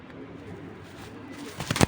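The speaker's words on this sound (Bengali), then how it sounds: "এই যে এখানে টোটালে আছে 4 পিস কবুতর" Pigeons at a pigeon farm give soft, low cooing near the microphone, with a louder burst of calls and fluttering toward the end.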